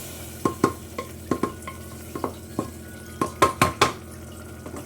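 Pav bhaji mixture stirred in a pan, with a spoon scraping and knocking against the metal in irregular bursts, some close together, over a low background simmer.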